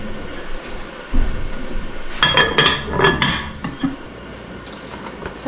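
A cooking pot being covered with its lid in a cluttered, half-unpacked kitchen before boiling: several close metallic clinks and clatters of lid against pot in a brief burst, then quieter rattles.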